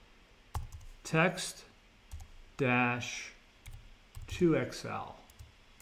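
Computer keyboard keys clicking in short bursts beneath a man's speech, the taps brief and fairly quiet between his words.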